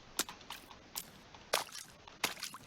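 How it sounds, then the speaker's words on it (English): Crunchy footstep effects from a Viking village video game: about five sharp, gritty steps at uneven intervals, close and fairly quiet, with no talking. "just random sounds that you can add with footsteps"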